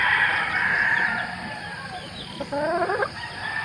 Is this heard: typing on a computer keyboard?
no